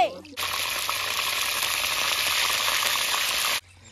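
Fish frying in hot oil, a loud, close, crackling sizzle that starts abruptly, holds steady for about three seconds, then cuts off.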